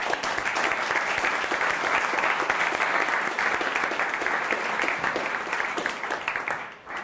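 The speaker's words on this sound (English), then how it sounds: "And for the teachers, I would also like to ask for a round of applause," A room of bootcamp students and guests at a coding school demo night in Amsterdam gives the teachers a loud, sustained round of applause, dense, even clapping from many hands that tapers slightly at the end.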